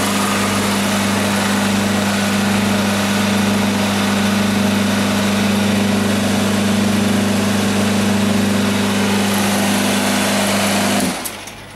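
A refrigerant recovery machine running on purge gives a loud, steady mechanical drone with a strong hum, continuing evenly for about eleven seconds before abruptly cutting off near the end.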